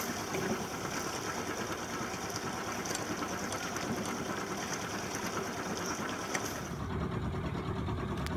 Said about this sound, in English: I decrease the speed again to about 1200 RPM. Just gradually coasting to a slower speed.